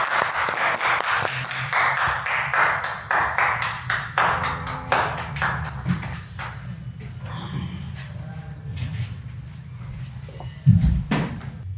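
At a Bihar talk show event, audience applause rises as a burst of scattered clapping over the first several seconds, then thins out and fades to a low murmur, with a short loud knock near the end.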